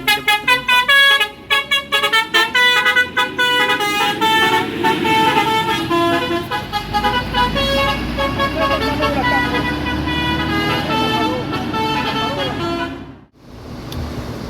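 An intercity bus bound for Palembang at a bus company terminal, on a West Sumatra–Jabodetabek route, with car horns; loud, sustained tonal honking rings continuously for about thirteen seconds, then cuts off briefly before traffic noise returns.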